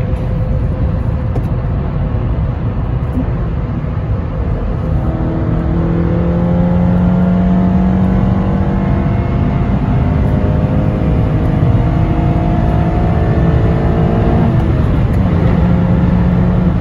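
Tuned ninth-generation Honda Civic Si engine with a K-Tuned CMC kit, revving through downshifts with rising and falling tones over a steady loud drone, heard from inside the car with no talking.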